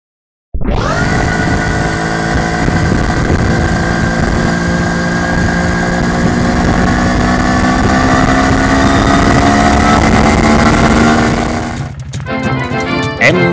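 An MZ ES 250/2 motorcycle with a Bing 84 carburettor, needle set to its richest position, starts up and runs steadily with a loud, buzzing two-stroke tone close by before the sound drops and shifts near the end.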